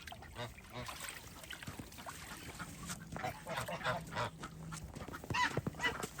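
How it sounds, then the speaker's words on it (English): Several geese honking nearby in irregular bursts at an icy animal sanctuary, mixed with quieter quacking and some background murmuring, the calls growing louder toward the end. "now that them trifling geese are up"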